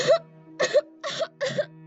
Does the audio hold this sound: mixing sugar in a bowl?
no